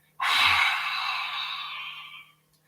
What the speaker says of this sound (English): You're going to stick your tongue out as far as you can, open up your eyes, and exhale all of that air out,